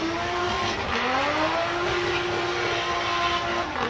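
Formula Drift qualifying run at Okayama, Japan: a drift car's engine holds a loud, steady high-revving drone with rising pitch sweeps, mixed with continuous tire squeal throughout, no talk.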